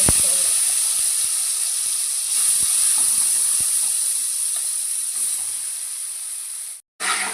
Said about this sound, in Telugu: పోపు వేస్తున్నాం. నూనె వేడెక్కింది.